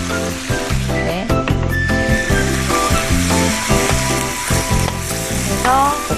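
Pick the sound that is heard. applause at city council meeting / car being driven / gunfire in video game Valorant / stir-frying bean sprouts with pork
stir-frying bean sprouts with pork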